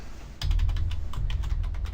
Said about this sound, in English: Should probably keep typing that in.